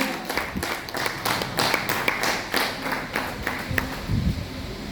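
Audience clapping at a felicitation gathering in Khurja, India: a scattered round of handclaps with irregular bursts, moderately loud and fairly close, no talking.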